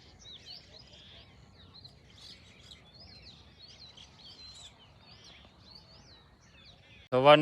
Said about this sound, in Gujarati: પક્ષીનો મીઠો મીઠો અવાજ હોય ને બધી ફરતે અવાજ આવતો હોય ને પક્ષી સારું સારું બોલતા હોય